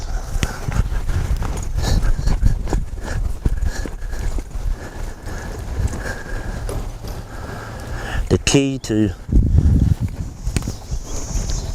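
A cutting horse works a cow, its hooves scuffing and thudding in a steady clip-clop beneath near-continuous close talk, with a brief sharp rattle midway.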